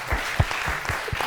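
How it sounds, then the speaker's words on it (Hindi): Studio audience clapping on a Hindi morning talk show, a short burst of scattered, fairly close applause lasting about a second. "तालियां बजाएं इनके लिए।"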